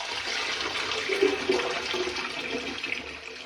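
Water pours and splashes steadily into a Graco Ultra XT airless paint sprayer, a continuous rushing hiss with a couple of louder gurgles midway.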